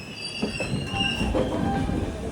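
Panchaganga Express pulling into KSR Bengaluru City Junction after its run from Karwar, wheels squealing steadily on the rails with a low rumble beneath, close and continuous, no voices.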